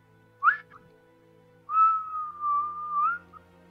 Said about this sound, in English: I want to take note of those whistles so I can repeat them later on